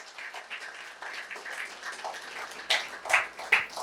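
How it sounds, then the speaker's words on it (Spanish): Congregation applause in a church during a sermon, a dense patter of clapping that swells into louder bursts near the end. "Si tú lo crees, dale un aplauso al Señor."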